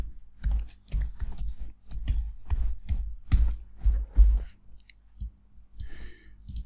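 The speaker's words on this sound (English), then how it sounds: "I'll type in, let's say, variable text." Computer keyboard keys clacking in quick, irregular bursts of typing while entering text in Photoshop, close and clear with short pauses between clusters of keystrokes and no talk.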